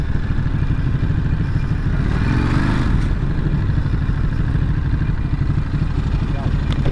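An orange motorcycle on a ride-out alongside classic Kawasaki two-stroke triples gives a constant close engine rumble mixed with wind noise, while a voice talks over it.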